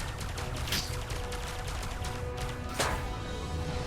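Spaceship turret weapons fire in the Elite Dangerous space combat game, a dense run of rapid, sharp shots over a constant engine-like hum, with louder bursts standing out near the start and later on.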